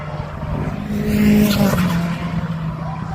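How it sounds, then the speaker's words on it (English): A Nissan R32 drift car chases an S14 at Castle Combe, engines roaring as tyres squeal in a long rising skid that swells loud mid-pass, then eases off. "Marcus Clare in the R32 being chased down hard for the SWSC S14."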